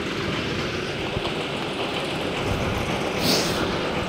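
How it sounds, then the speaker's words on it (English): Rideable miniature park railway train running around a park in southeast Görlitz, its replica early German vehicles giving a steady broadband rumble and rolling noise that stays loud and continuous throughout, with a brief brighter swell near the end. "The train drives around the park, which is located in the southeast of Görlitz."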